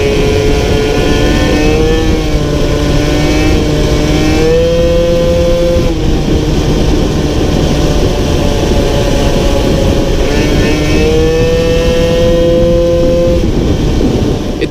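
Mobylette mopeds riding together at a big moped gathering in Treignat, several small two-stroke engines buzzing and revving loudly and continuously, pitch rising and falling, no voices.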